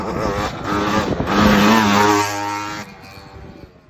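A 2001 Honda CR250 dirt bike engine revs up loudly, holds a rising buzzing roar for about a second, then drops back toward a rough, sputtering idle.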